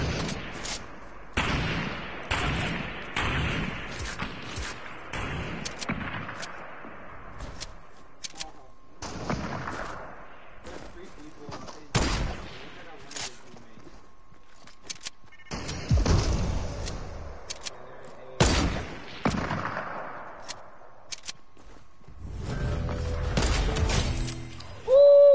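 Repeated gunshots and heavier booming blasts from a Fortnite match, fired in scattered bursts with short pauses, loud and close, with occasional voices between the shots.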